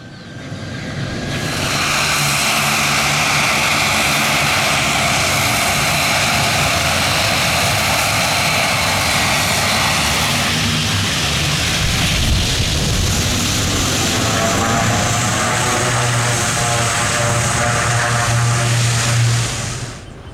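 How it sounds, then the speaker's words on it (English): Fokker 50 turboprop airliner taking off, a loud, sustained propeller drone and engine roar with a steady tonal hum that builds and holds close by for the whole stretch, no talking. "we thoroughly enjoyed watching our Fokker 50 take off with no obstructions"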